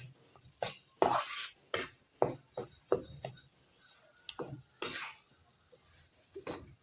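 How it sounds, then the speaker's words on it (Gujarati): Flour roasting in a pan for sukhdi is stirred and scraped with a spoon in repeated close, rhythmic strokes, with occasional metallic clinks against the pan and a faint sizzle underneath. "અત્યારે એને શેકાવા દેવાનું છે થોડું લાલાસ પડતું થાય ને ત્યાં લગીને શેકવાનો છે લોટને"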